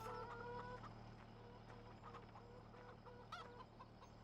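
Chickens clucking in a chicken coop in Farming Simulator 17, soft repeated clucks at a steady rhythm with one louder squawk near the end, faint and thin.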